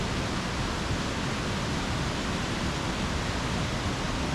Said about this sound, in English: we soon reach Skelwith Force Waterfall, which is always quite impressive and noisy after heavy rain